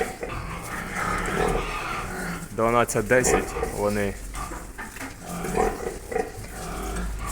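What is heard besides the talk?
piglets grunting while eating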